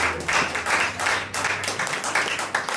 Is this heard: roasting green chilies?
no